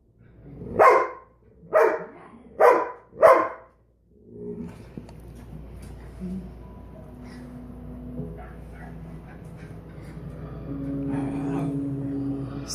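A dog barks at a Budweiser Super Bowl commercial showing a puppy and Clydesdale horses: four loud, evenly spaced barks up close, then quieter whimpers and low sounds over the television's background audio.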